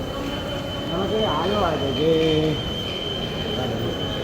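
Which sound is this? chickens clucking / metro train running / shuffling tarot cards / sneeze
metro train running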